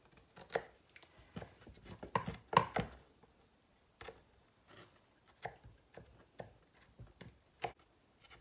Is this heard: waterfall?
no